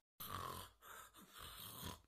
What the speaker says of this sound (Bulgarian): Млъкни, много хъркаш.